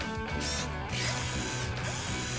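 A cartoon ratchet tightens a bolt while fixing a broken lighthouse gear, giving a rapid, continuous mechanical clicking that runs steadily for a couple of seconds with no talk over it.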